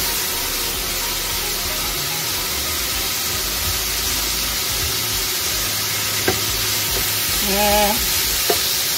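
Onions and green peppers stir-fried with minced meat in a pan, a steady broad sizzle throughout with occasional clinks of a utensil near the end, close and continuous.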